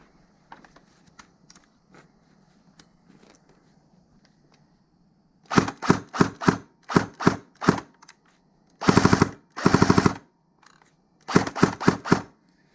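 An Elite Force Tavor-21 airsoft rifle, modified from stock, fires on semi-auto in a string of sharp, close, rapid pops, in quick clusters of separate shots after several seconds of near quiet.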